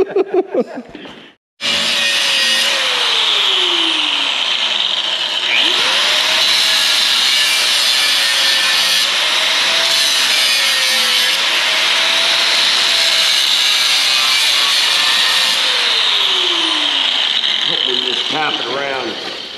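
A power saw cuts wood during its first full function test: a loud, close, continuous cutting roar after a short start, with the motor's pitch sagging and recovering as the blade works through the wood.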